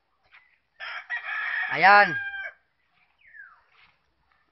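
A rooster at a game farm crows once, a rising and falling call lasting over a second, close and clear, with a soft cluck or chicken sound shortly after and a brief word spoken nearby.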